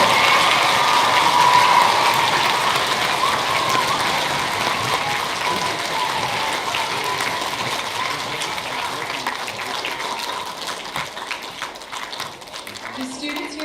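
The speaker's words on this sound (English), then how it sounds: "let's have one great big round of applause for all of our special guests who are here today" An audience at a school Veterans Day program gives a big round of applause for special guests, a dense, sustained clapping that fills the room and slowly thins out.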